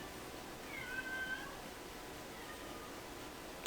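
A cat meows faintly at a distance in a quiet room, two soft drawn-out calls around the middle with low background hiss.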